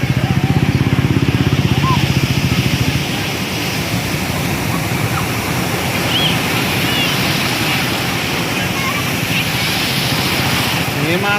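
Sea waves of the Bay of Bengal at Perupalem beach roll in as a loud, steady, broadband wash with no break, continuous and close throughout.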